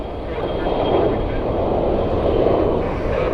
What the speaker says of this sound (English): Should be USA Jet Flight 837 and MD-80 inbound from Louisville.